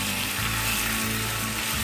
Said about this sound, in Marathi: आता ही जरा परतून घेऊया ही लेग पीस.